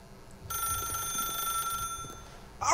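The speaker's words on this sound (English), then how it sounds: "then pick up the phone" A telephone rings in the video game The Stanley Parable, a sustained electronic bell-like tone lasting over a second under a low background rumble, followed by a short rustling clatter.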